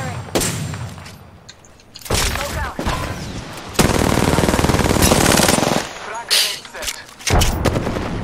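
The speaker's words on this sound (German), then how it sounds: "Oh, Schüsse direkt vor mir." Gunfire in the battle royale game Apex Legends, with loud bursts of automatic fire and heavy shots coming in clusters separated by short pauses, close and dominant, with a voice speaking between them.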